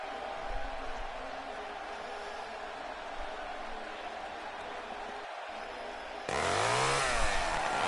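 A chainsaw revs over a steady crowd roar during a wrestler's entrance in WWE 2K17, with a sharp louder burst near the end.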